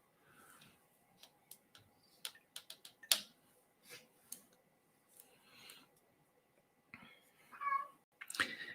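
A cat gives a few short meows amid scattered sharp clicks and ticks, all faint and spaced irregularly in a quiet room.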